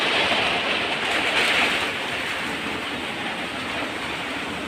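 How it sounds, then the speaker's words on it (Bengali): Steady rain falls as a dense, even hiss, continuous and moderately loud with no voices. "তা দেখি বৃষ্টি পড়ছে"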